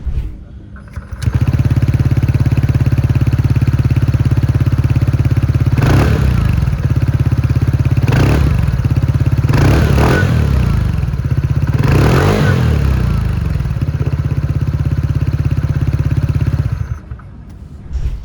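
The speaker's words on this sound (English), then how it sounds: "All that is left is to listen to the exhaust note of the NTorq 150." A TVS NTorq 150 scooter with a 150cc engine idles steadily at a low, even exhaust drone, then blips the throttle in several short revs, and settles back before cutting off.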